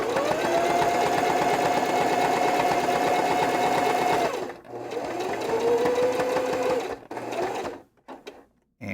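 A sewing machine stitches fabric hands with back stitching, running steadily and loud for about four seconds, pausing briefly, then running again in shorter bursts before stopping.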